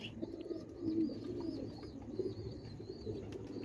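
Old traditional breed pigeons in a loft, giving low throaty coos in short bursts, close and unaccompanied, with faint higher chirps above.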